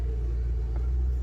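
A car engine rumbles steadily while the car pulls out of a parking spot, a low continuous drone that stays at an even level with no talk.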